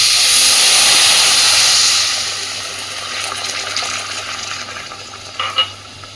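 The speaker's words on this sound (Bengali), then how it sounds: "এইবার আমি এখানে দিচ্ছি ওই কাপেরই হাফ কাপ জল।" Half a cup of water poured onto a cup of sugar in a cooking pan for syrup, a loud steady hissing gush for about two seconds that settles into a softer bubbling wash with a few small clinks near the end.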